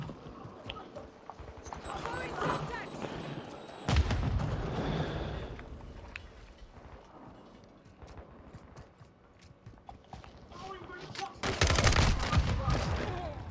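Gunfire in Call of Duty Modern Warfare II, a sniper among it, as loud cracks and bursts over busy game noise with heavy hits near four seconds and a dense loud volley near the end.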